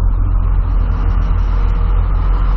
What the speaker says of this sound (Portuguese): Deixa esse caminhão passar aqui.